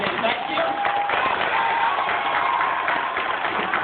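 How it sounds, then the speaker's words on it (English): An evening community gathering breaks into a round of applause, a continuous mass of clapping heard through a muffled, narrow-band recording, with chatter and a tonal whistle mixed in. "can we give him a big round of applause and say thank you?"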